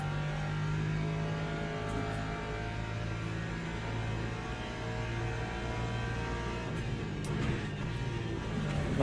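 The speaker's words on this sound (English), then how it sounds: "Listen to the tires, because the suspension's broke." Race car tyres hum and scrub under a steady engine drone in the Le Mans Ultimate racing game, the car running with broken suspension; the sound is continuous and fairly even throughout.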